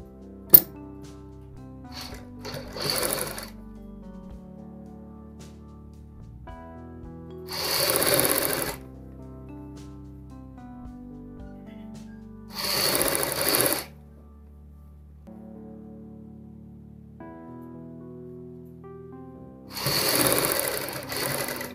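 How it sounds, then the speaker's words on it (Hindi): Sewing machine stitching the collar of a ladies' kurti coat, running in four short bursts of rapid needle clatter separated by quiet pauses, close and clear with no talk. "अब हम इस सिलाई को ऊपर वाली सिलाई से कंप्लीट करेंगे।"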